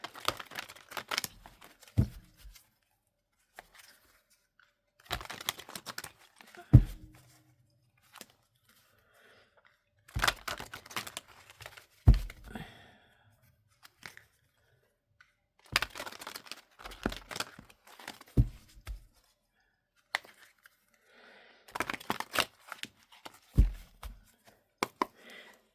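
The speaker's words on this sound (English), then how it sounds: "I now want to pull you 6 of these tarot cards." Tarot cards are handled and shuffled close up in several separate bursts of crisp riffling and slapping, with quiet gaps between them.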